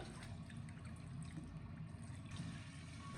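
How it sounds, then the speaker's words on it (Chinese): Raw chicken giblets are rinsed under running tap water in a kitchen. A faint, steady stream of water splashes throughout, with a slight shift in the flow near the end. "接着再用自来水把它冲洗干净"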